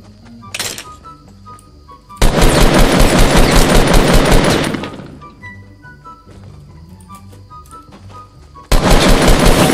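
Rapid automatic gunfire in the battle royale game Fortnite comes in two long, loud, dense bursts with a short burst before them. Quieter game sounds fill the gaps between the bursts.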